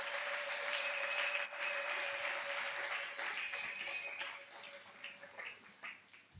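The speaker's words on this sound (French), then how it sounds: "Applaudis pour toi-même." A church congregation applauding during a French-language sermon, a dense steady wash of clapping with a sustained held tone over it, fading and thinning toward the end.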